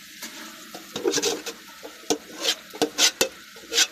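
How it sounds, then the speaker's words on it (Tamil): Mutton and masala cooking together in a pot for mutton biryani, stirred with a utensil: soft scraping and stirring strokes in uneven bursts over a low, steady sizzle, close by. "மட்டனோட சேர்ந்து மசாலா வேக வச்சிடலாம்."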